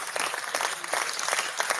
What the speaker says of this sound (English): Sarah, I'd love to get you to clap for us if you could.